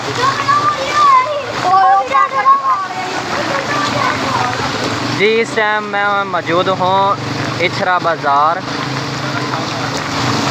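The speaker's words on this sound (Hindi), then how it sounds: "तो आप देख सकते हैं बारिश हो रही है" Rain and flood water in a Lahore street at Ichhra Bazaar make a continuous splashing wash, with water sloshing and spattering close by as a man reports loudly over it.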